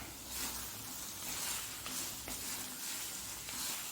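Cassava stew frying in a pan and being stirred, a steady loud sizzle with soft scraping strokes of the spoon passing through it at intervals, close and continuous without talk.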